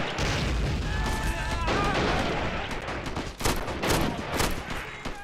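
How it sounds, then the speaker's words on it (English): Artillery and gunfire in a war video game, loud booming shots with rapid crackling bursts and sharp reports spread across the battle. "Another shot from artillery from the U.S."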